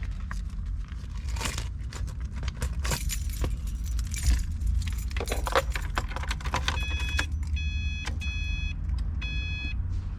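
Car keys jangle and clink near the ignition as a car is switched on while a back-up camera mirror is being installed, with scattered metallic rattles over a steady low engine-like hum and a few short electronic chimes toward the end.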